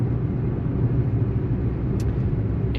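A wrecked car rolls out of a garage, its engine giving a steady, close, low rumble throughout with no voices.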